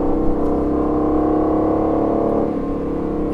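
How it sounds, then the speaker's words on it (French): An Aston Martin Vantage engine drones loud and close from inside the car on the Nürburgring, a sustained throaty hum with a slight shift in pitch and level as it downshifts. "les rétrogradages avec ces voitures, c'est top."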